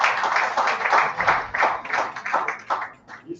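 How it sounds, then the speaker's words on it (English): A seminar audience claps in a short, close burst of applause, individual hand claps audible in an uneven rhythm that thins out toward the end. "Please let's do that another round of applause."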